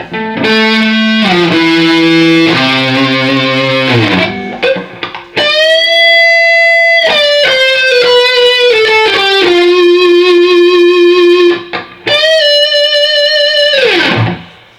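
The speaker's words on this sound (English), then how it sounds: "playing something with some mellow lead that's got a lot of gain" Smooth, sustained electric guitar lead with heavy gain through a Marshall Valvestate combo amp, singing held notes and bends in a mellow melodic line, played alone.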